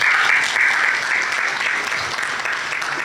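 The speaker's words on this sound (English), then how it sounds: "Please, a round of applause for them." An audience at a panel session applauds the panelists, a brief, steady round of clapping from a crowd close by, with no voices over it.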